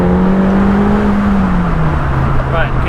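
A Mini Cooper S Convertible driving slowly around a roundabout, its engine humming steadily with a gently falling pitch under continuous road and wind noise, close and loud inside the cabin.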